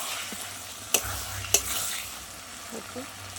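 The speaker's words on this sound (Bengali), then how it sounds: "তেল তো আমার মাংস কষানো হয়ে গেছে" Mutton sizzles in oil in a pan while a spoon stirs it, with a couple of sharp scrapes against the metal over a continuous low frying hiss.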